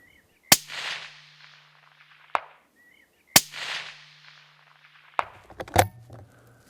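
Two sharp rifle shots ring out outdoors, each followed about two seconds later by a faint distant clang as the bullet strikes a steel disc target shaped with rabbit silhouettes; a loud broadband crack, a long decaying echo, then the small metallic ping, with handling noises at the end.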